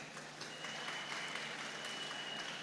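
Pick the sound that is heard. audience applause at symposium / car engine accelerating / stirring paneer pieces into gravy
audience applause at symposium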